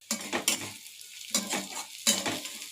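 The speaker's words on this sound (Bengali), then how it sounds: "এবার পেঁয়াজগুলো আমি দিয়ে একটু ভেজে নেব।" Onions hitting hot oil in a pan with black cumin and half-fried potatoes, three close bursts of loud sizzling and stirring separated by brief quieter gaps.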